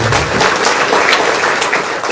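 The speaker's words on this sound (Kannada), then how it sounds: "ನೀವೆಲ್ಲರೂ ಒಂದು ಜೋರ ಚಪ್ಪಾಳೆ ಮೂಲಕ ಧನ್ಯವಾದ" Loud, dense applause from an audience of farmers fills the whole moment, steady clapping with no pauses.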